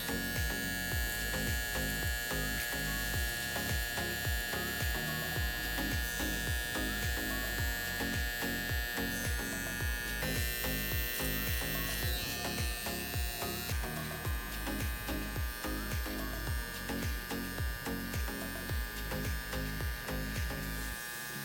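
An electric hair trimmer edges up the hairline during a mid skin taper on long hair, buzzing continuously with rhythmic pulsing strokes close by for the whole stretch.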